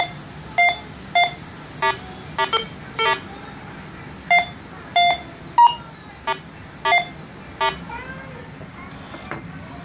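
Go Find 60 metal detector sounding repeated short electronic target beeps, about a dozen evenly spaced tones over ten seconds, loud and close, signalling a nickel-type target such as a coated bullet.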